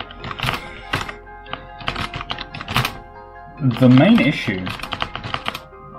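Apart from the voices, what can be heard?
typing on cheap $7 Five Below keyboard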